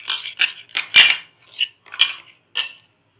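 A spoon clinks against a bowl while ingredients are mixed for a Lahori chargha marinade: about seven sharp, bright taps in an uneven rhythm, close and alone, with short pauses between strokes.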